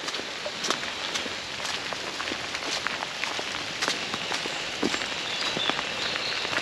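Rain falls outdoors on the Norfolk Broads in February as a soft, steady hiss with scattered drip-like taps throughout, and no talking.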